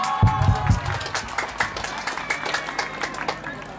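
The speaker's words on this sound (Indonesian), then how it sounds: "Beri aplaus." An audience at an outdoor health service event in Nabire, Papua, breaks into scattered clapping, with a few sharp claps at first and then a steady patter of hands under a voice talking over it.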